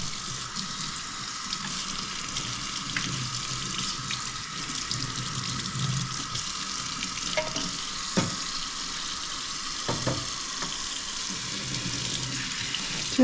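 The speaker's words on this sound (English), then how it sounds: "And you just wash it off while your coffee's cooling down." Tap water runs steadily over a used espresso puck being rinsed in a sink, a continuous splashing wash with a few brief clinks and knocks near the end.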